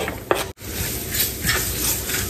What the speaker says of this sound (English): Now we're gonna go in with our onions.